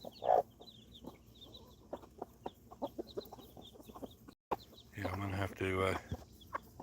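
Chickens cluck with a rooster among baby chicks in a homestead coop during evening chores, short clucks scattered throughout, then louder bursts of crowing-like calls near the end, with brief speech at the start.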